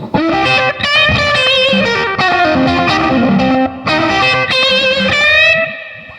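Loud overdriven electric guitar chords and bends through an Ibanez AD-80 analog delay and a Love Pedal JTM, echoing repeats trailing behind each phrase, dense and continuous, briefly cutting out between strums.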